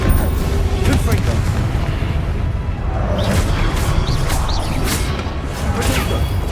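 Fiery Confringo spell blasts in Hogwarts Legacy combat, a continuous barrage of loud booming impacts and crashing rumble, close and dense, with voices mixed in.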